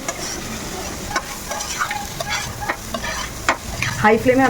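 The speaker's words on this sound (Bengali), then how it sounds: "এবারে যে আমি এখানে কর্নটা আমি এখানে ভেজে রেখেছি এটা দিয়ে দেব। দিয়ে এটাকে হাই ফ্লেমে" Fried corn being sautéed on high flame in a pan: a steady sizzle with repeated scraping, stirring strokes of a spatula, close and moderately loud, with no talking.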